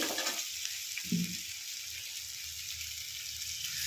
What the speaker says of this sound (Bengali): তো এবার আমি জল দিয়ে দিচ্ছি এতে।